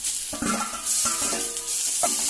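Chopped tomatoes are added to ginger and garlic and stirred in a hot pan for a pasta dish, giving a steady close sizzle broken by a few scraping stirs.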